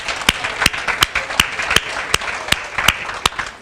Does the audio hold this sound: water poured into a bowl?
no